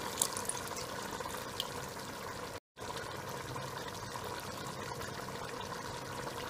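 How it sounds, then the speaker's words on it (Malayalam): Saffron-soaked water poured into a pot of Malabar mutton kuruma, a faint continuous watery trickle with a brief dropout, close and quiet, no talking. "അല്പം സഫ്രോണിനെ ഞാൻ വെള്ളത്തിലിട്ട് വെച്ചിട്ടുണ്ട്. അതിനെയും ആഡ് ചെയ്ത് കൊടുക്കാം."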